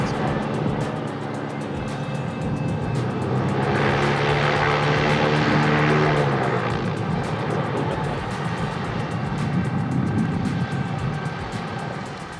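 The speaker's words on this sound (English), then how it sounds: "He's completing a run-up of the engines, checking the magnetos and props, etc., making sure everything's working right." Blimp engines and propellers roar steadily through a run-up during magneto and prop checks, a loud continuous droning with a rising and falling pitch swell midway, close and without talk.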